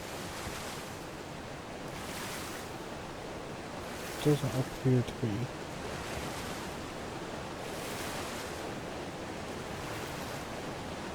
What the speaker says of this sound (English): I can't remember if there's any crystal in this waterfall or not.